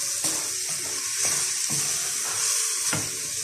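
Chopped carrot, swede and celery sizzle in a hot soup pot as they are stirred, giving a continuous loud hiss with occasional clicks of the spoon against the pan.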